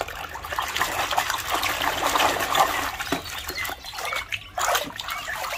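Water trickles and dribbles steadily while toy guns, including a Glock-style pistol, rifles and shotguns, are washed clean, with light splashes and gurgles rising and falling over several seconds, close by and with no talking.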